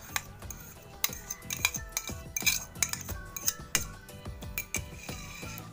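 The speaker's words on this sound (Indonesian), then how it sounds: "Lalu aku aduk lagi." A spoon scrapes and clinks against a bowl while banana pieces are stirred into batter, giving irregular metallic taps and light knocks at close range with no talking.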